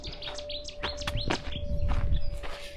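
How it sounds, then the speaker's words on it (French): Birds sing on a sea cliff of the Côtes d'Armor coast in Brittany, with a quick series of bright chirps and tweets close by over a low rumble of background noise. "Les oiseaux qui chantent."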